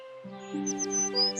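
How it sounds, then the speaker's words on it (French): Cartoon birds sing in a forest in a brief burst of high, bright chirps and tweets over a sustained tonal bed of music, with no talking. "Au matin, Blanche-Neige fut réveillée par le chant des oiseaux."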